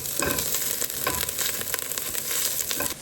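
Onions fry in a pan, a continuous close crackling sizzle with occasional stirring scrapes throughout, no voices.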